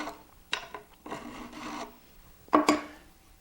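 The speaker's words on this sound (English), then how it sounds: "That's what a rounding file is for." A fret rounding file rasps across a guitar fret in short scraping strokes, a few quick rubs then a longer pass, ending with two sharper scrapes, close and clear with no talking.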